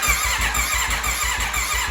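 A rebuilt, previously wrecked 2021 Aprilia RSV4 motorcycle engine cranks over on its starter to prime oil, a loud, close, rapid rhythmic chugging with steady pulses and no firing.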